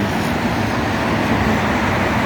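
A Hong Kong route 101 bus pulls in at a large expressway bus stop, with a steady, loud roar of road traffic and engine rumble throughout and no speech.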